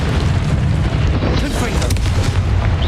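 A Confringo blasting curse exploding in Hogwarts Legacy, loud booming bursts filling a short, dense, roaring stretch with no quiet gaps.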